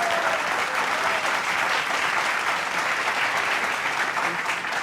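Steady audience applause at a Hindi poetry recital of political satire, a dense continuous clatter of many hands sustained at even loudness throughout, with a faint voice briefly audible underneath.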